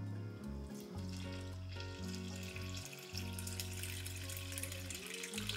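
About 300 grams of water is poured into 600 grams of flour for sourdough bread dough, giving a faint, steady trickle and splash over a low background hum, without any talking.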